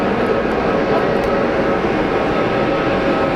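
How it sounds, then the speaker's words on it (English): An airliner lands at Geneva Airport, a loud, continuous broadband engine and airframe roar that stays steady and close for the whole stretch. "Another effortless landing."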